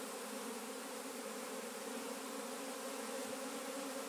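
A prime honeybee swarm shaken from a tree branch about twelve feet up, giving a steady, dense buzzing hum that holds unbroken and fairly loud throughout, with no voices.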